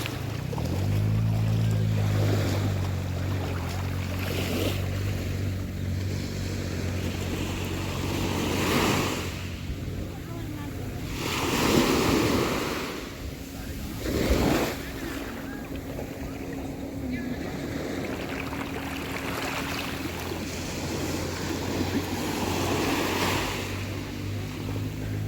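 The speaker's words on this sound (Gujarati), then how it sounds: "મોજા આવે એનો વિડીયો ઉતારો." Sea waves wash onto the blue flag beach at Shivrajpur near Dwarka, a steady broadband rush with a few louder surges. A low engine drone runs underneath, and people talk faintly in the background.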